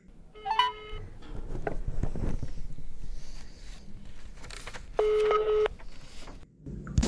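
Telephone keypad tones dialed for a call, two short bursts of stacked DTMF beeps, the first near the start and a longer one near the end, over a steady background murmur.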